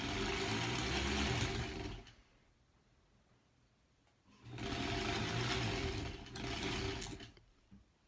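A sewing machine stitches granny square quilt blocks in two bursts of rapid, even whirring. The first lasts about two seconds, and the second follows after a quiet pause, with a short break inside it before it stops.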